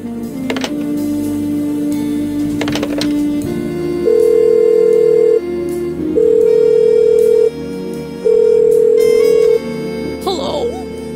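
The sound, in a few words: telephone call being placed, from a video game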